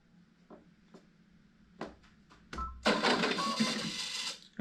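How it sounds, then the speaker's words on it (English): A few clicks and taps, then a machine whirs into a steady, fairly loud mechanical run close by. "I gotta turn the sewing machine on."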